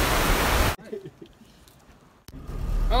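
Steady, dense hiss of heavy rain, cut off abruptly, then a quieter stretch with faint sounds before the loud downpour noise returns.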